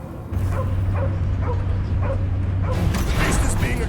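Cosmo, the space dog in a Guardians of the Galaxy game, barks and yips in a rhythmic series of sharp, close calls over a low mechanical hum, with a louder flurry of noise at the end.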